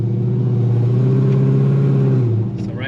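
A 2006–2010 Dodge Charger engine hums steadily at moderate revs, then dips as it downshifts through paddle shifters, close and loud inside the cabin, with a voice talking over it.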